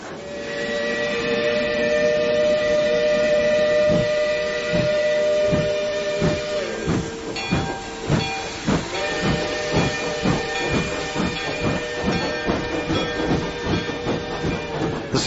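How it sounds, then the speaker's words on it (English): A steam train pulls away from a railway station in a coal and iron mining valley, a long loud whistle over steady hissing steam, then rhythmic chuffing and clanking as it gathers speed. "A special train sent by the railroad company made a swift, unbroken journey away from the land of coal, iron, clank, and roar"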